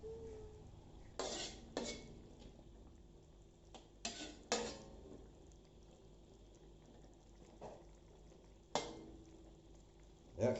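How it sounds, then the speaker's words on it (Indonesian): Stirring tempeh in broth in a cooking pot produces scattered scrapes and knocks of a utensil against the pot. These come in irregular bursts over a quiet background, close by, with no talking. "Kemudian kita siram atau aduk ya. Permukaan tempenya kita ratakan agar terkena kuahnya"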